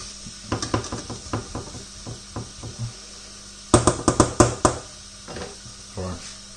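Chickpeas tipped into a pan while cooking shakshuka: a run of sharp knocks and rattles against metal, then a louder cluster of clattering hits and a few scattered taps.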